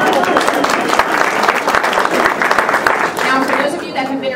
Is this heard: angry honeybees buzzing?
no